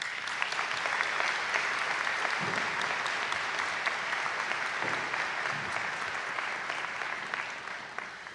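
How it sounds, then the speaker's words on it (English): An audience at a spring graduation ceremony in Conlon Hall claps in a sustained, dense round of applause that stays fairly even throughout, with no speech over it. "let's take a minute to recognize all these guests with a nice round of applause"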